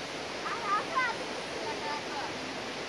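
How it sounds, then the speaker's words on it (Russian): A steady, distant rush of the Gollinger Waterfall in Austria, heard from a height, broad and constant, with faint indistinct sounds drifting over it. "Вот мы видим водопад со следующей высоты"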